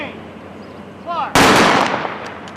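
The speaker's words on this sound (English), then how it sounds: "Ready. Aim. Fire." A single sharp, loud rifle volley rings out on command at an outdoor ceremony, with a shouted order just before it and an echoing decay trailing after.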